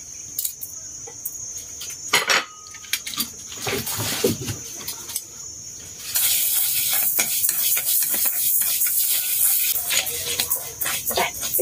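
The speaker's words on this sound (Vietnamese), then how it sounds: "Nấu cháo mình rang gạo nó thơm lắm." Rice dry-roasting in a pan for porridge gives a soft, continuous crackling hiss, with scattered scraping and stirring taps from a utensil, close and fairly quiet.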